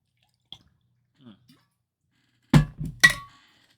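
Water being poured or drunk in a forest-set story game: a few faint soft taps, then three quick, fairly loud sloshing, gurgling bursts close together, with no talking.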